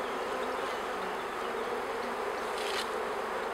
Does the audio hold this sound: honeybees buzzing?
yes